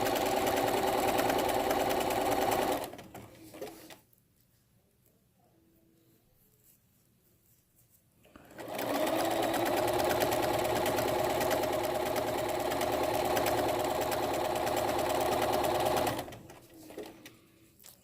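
A Bernina 325 sewing machine stitches stretch binding onto a fabric head sock mask in two steady, fast-running bursts, with a quiet pause of several seconds between them. The whirring hum is close and clear, and there is no talk.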